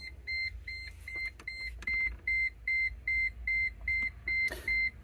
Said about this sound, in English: And that beep is actually from the vehicle,